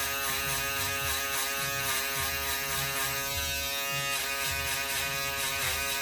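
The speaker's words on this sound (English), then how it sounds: "So now I'm going to come in with my foil shavers, and I'm just going to flick out." Electric foil shaver taking a buzzcut skin fade down to the skin in a barber studio, giving a steady, loud, close-up mechanical buzz that runs throughout without pause, with no speech.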